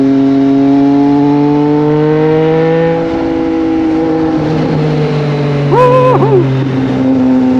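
A Triumph Street Triple 765 RS motorcycle engine hums steadily and loudly while riding, its pitch shifting as it changes speed, with a brief rising and falling whine near the end.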